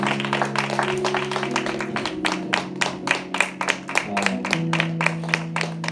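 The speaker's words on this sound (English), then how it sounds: "Can we give the Lord a hand clap of praise?" Congregation at a praise service clapping hands in praise, quick rhythmic claps over sustained organ or keyboard chords, with the beat steady throughout.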